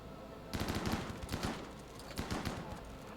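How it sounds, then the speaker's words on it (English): Chain shotgun firing in the video game RimWorld: rapid bursts of repeated blasts in two rolling volleys, dense and loud over a constant background roar. "Chain shotgun's coming in clutch"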